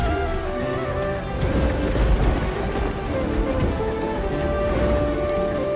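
Heavy rain falling on a tin roof, a dense, loud, continuous roar of drops drumming on metal with no talking.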